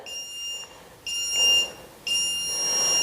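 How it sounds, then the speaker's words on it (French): Electronic workout timer beeping at the end of a 10-minute muscle-strengthening session: three bright, high-pitched beep bursts about a second apart, clear and close, with no talking. "on va avoir les bips rapides pour nous signifier qu'on a terminé nos 10 minutes"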